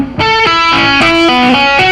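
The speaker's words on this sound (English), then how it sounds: "This tapping lick is based around a pentatonic box" Fast pentatonic tapping lick on a distorted electric guitar in a rock style, with bright, evenly spaced tapped notes in a quick repeating pattern, loud and up close, with no voices.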